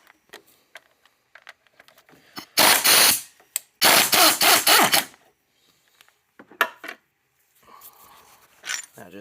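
A socket ratchet works loose the engine mount bracket bolts on a Honda J35 V6, with two loud bursts of rapid ratcheting clicks between quieter clinks and handling noises, no talk.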